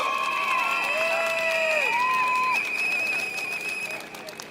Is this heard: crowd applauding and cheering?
yes